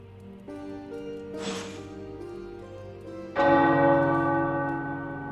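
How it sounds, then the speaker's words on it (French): Church bells ring in the video game Midnight Suns, a resonant tolling with sustained overtones, a bright burst in the middle and a louder fresh strike near the end that rings out and slowly fades, with no talking. "Les cloches. J'adorais les faire sonner quand j'étais enfant."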